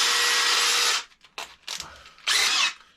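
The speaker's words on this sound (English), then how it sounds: "Oh, that doesn't sound right, does it? A drill." A Makita cordless drill from an electrician's kit whirs loudly at full speed for about a second, then gives several short stuttering bursts and a final sustained spin before winding down.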